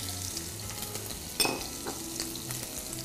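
Pork and garlic stir-frying in oil in a wok for twice-cooked pork: a steady close sizzle and crackle throughout, with a brief louder scrape or clatter of stirring partway through.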